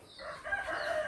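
A single rooster crows once, fairly close and clear, its drawn-out call rising and holding for about a second.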